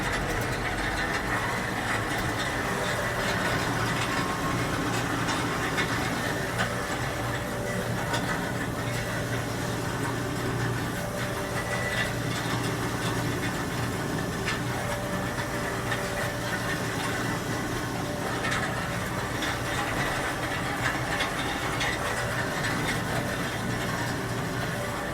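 A tractor grading a gravel driveway, its engine running steadily up close, a continuous low rumble with scraping gravel texture throughout and no talk.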